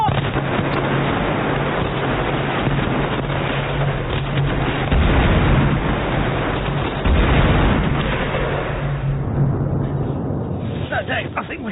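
Heavy guns from a ship fire on command, a dense, continuous roar of blasts and rumble filling the clip, loud and close, with shouting voices mixed in.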